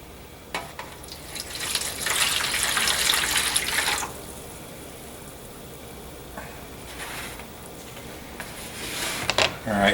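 Liquid poured in a test pour indoors in front of a stove, a hissing, splashing stream for a couple of seconds followed by quieter trickles and faint clinks, close by.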